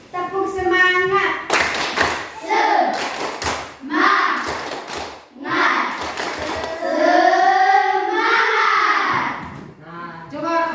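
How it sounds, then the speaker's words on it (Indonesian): A classroom of children performs a rhythmic clap cheer called tepuk semangat, loud patterned handclaps mixed with the children's chanting voices in a close, lively room. "Tepuk semangat dulu."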